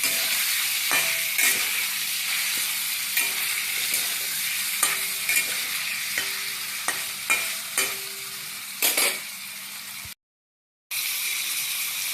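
Paneer frying with turmeric in a pan while being stirred, a continuous close sizzle broken by repeated sharp spatula scrapes and clinks at irregular intervals, a brief dropout near the end, no speech.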